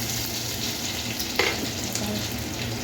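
Ginger sizzles steadily in hot oil for Hakka noodles, a loud continuous frying hiss with one brief clink of a utensil against the pan near the middle.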